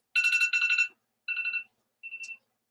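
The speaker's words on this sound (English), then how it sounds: "And now my alarm's going off." An electronic alarm rings out in three warbling bursts, loud and close against silence, the first long, the later two shorter, with no voices.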